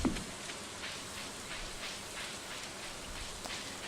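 Steady rain patters in the Stardew Valley farming game, a soft, even hiss with faint droplet ticks throughout and nothing else standing out.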